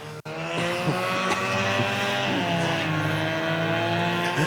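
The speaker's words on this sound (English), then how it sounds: "Ramirez will lead lap number 1" Hornet class race cars roar around USA Raceway on the opening lap of a 15-lap main event, a dense, loud pack of engines with a faint tire squeal and no talking.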